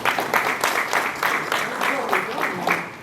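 Audience applause from a crowd in a hall after a speaker's introduction, steady dense clapping lasting several seconds with a few louder bursts, while a voice talks over it.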